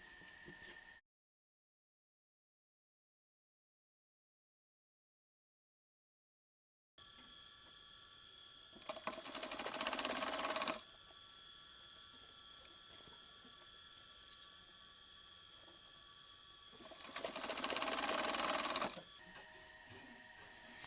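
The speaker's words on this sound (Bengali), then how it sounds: "সুচ উঠিয়ে কাপড়টি মেশিনের ভেতরে দিয়ে এভাবে সেলাই দিতে হবে" Sewing machine stitching fabric for half pants runs in two bursts of several seconds each, a fast loud mechanical whirr over a low steady motor hum, with a near-silent gap at the start.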